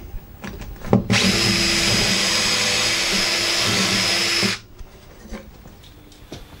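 A power drill bores into wood during a two-drawer cabinet build, worked left-handed. The loud, steady whine starts abruptly, runs about three and a half seconds on its own, then cuts off sharply.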